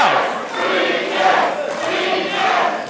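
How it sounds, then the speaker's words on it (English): A live crowd at an indoor professional wrestling show cheers and roars as two wrestlers brawl near a doorway. The noise is a loud, continuous wash that swells and dips without pause. "Listen to the crowd."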